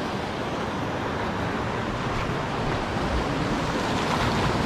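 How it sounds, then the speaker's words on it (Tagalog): Large sea waves surge and break on a rocky shore, a steady, loud, broadband roar of surf with wind across the microphone, continuous throughout with no pauses. "Lalaki yung alon."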